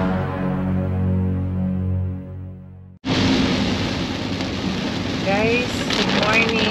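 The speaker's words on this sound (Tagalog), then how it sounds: "Ayan, ang lakas ng ulan, no?" Heavy rain bursts in abruptly after a few seconds of steady tonal hum, then roars loud and dense until the end, with faint sounds over it.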